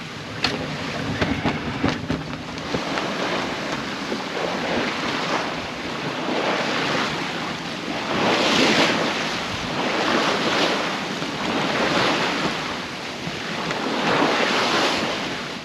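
Heavy ocean swell and strong wind at sea aboard a 30 ft sailboat crossing the Tasman Sea toward Cook Strait: a continuous roaring rush of wind and water with rising and falling surges, loud and close.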